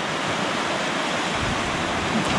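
Surf breaking on an island beach at Keppel Island, heard as a steady, full-bodied wash of rushing water with some wind, continuous and fairly loud with no talking.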